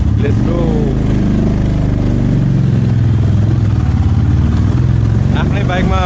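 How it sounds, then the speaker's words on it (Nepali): A motorcycle ridden with two people aboard gives a steady, close engine rumble with wind noise throughout, and brief voices come in near the start and the end. "मेरो बाइकमा जाँदैछौँ"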